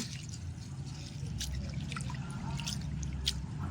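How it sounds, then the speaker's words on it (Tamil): Water sloshing and trickling as flattened rice is rinsed by hand, with soft squishy splashes and drips, close and fairly quiet. "நல்லா தண்ணி ஊற்றி நல்லா கழுவிட்டு"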